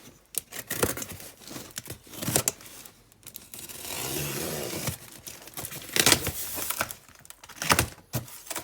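Parcel shipment of Land Rover Series parts being cut open, with bursts of tearing, crinkling and scraping packaging close by, pausing briefly before more rough rips and rustles.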